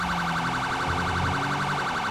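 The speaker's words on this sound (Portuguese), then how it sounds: "a gente desliga a sirene" A police car siren in GTA V wails loud and continuous, its rapidly cycling tone running through the whole clip over a low engine hum.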